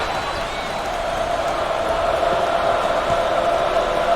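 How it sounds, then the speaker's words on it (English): A basketball arena crowd in NCAA Basketball 10 produces a steady, droning roar of chanting voices that stays even and sustained throughout, with faint court sounds beneath. "The crowd starting to chant."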